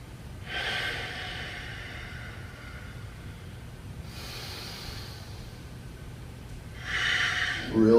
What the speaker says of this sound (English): 5 more good breaths here.